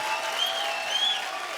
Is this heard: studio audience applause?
yes